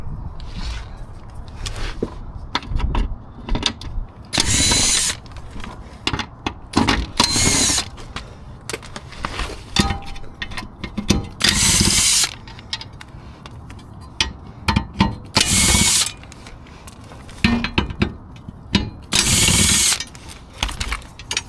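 Cordless power tool with a T45 bit removing five bracket bolts on a Mercedes 4matic, whirring in repeated short bursts between clicks and metal clinks, close and loud, with no talking.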